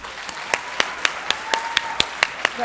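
Sharp, evenly spaced claps from a small number of hands at a high school yearbook ceremony ring out in a steady rhythm, close and clear, with no voices over them.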